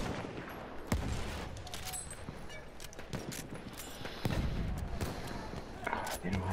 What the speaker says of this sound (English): I'm gonna try the carbine.